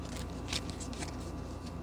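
A deck of cards being shuffled for a tarot-style reading, a brief close riffling rustle with a few sharper flicks, steady and fairly quiet.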